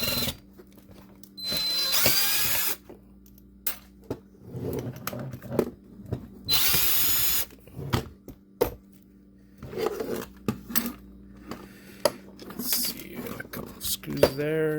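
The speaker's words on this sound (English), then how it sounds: "I'm going to use my new drill to take apart the old drill" A cordless drill spins screws out of the casing of an old 12-volt drill in bursts of a few seconds each, loud and close, separated by rattling handling and clicks, with someone speaking between the runs.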